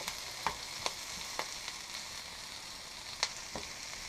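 Kale sizzles continuously in a hot pan while a utensil stirs it, giving several distinct scraping knocks over the steady frying hiss, close up and with no talking.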